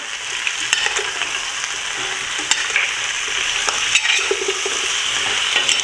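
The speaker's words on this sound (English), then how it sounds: "Give it a stir." A small pot of Trini cowheel and pigtail soup with green fig, cassava and potatoes is stirred, a steady bubbling simmer with scattered spoon scrapes and clinks against the pot, nearby and fairly loud.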